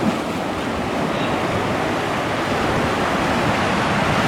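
Sea waves breaking on a rocky fishing shore near Salé, a loud, steady roar of surf and rushing water close by, with wind buffeting the microphone and no talking.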